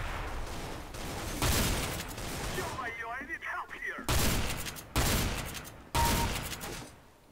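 Gunfire in Counter-Strike: Global Offensive, played offline against bots: loud bursts of rifle shots come in several clusters with short gaps, close and sharp, with game sounds between them.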